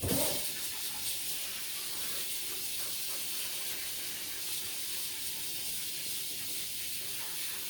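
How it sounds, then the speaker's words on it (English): A steady, hissing rush of water flowing continuously, close by, with no voices. "I'm going to add a bit more water over here."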